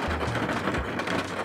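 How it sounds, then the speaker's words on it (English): Steady rain patters outside a parked car, a dense broadband hiss with low rumble from the cabin, continuous and close throughout with no voices. "I'm sorry about the rain."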